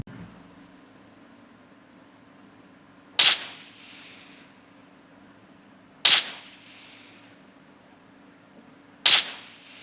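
Three single gunshots from the game PUBG, heard through Lenovo HQ08 wireless earbuds, crack about three seconds apart over a faint steady hum, each shot sharp and brief with a short decaying tail.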